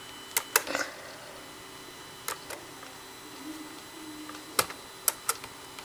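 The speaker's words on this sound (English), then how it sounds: "Just type that in with your keyboard." A few scattered keystrokes on a computer keyboard, quiet and irregular, with pauses between the clicks in an otherwise calm room.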